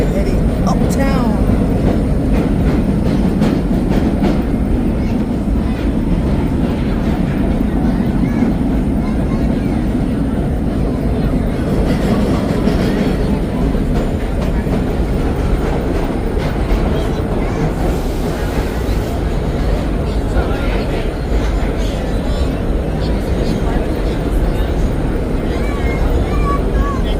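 A vintage holiday nostalgia train rides through New York City, with a loud steady rumble and rattle of old railcars throughout and a voice talking now and then beneath the noise.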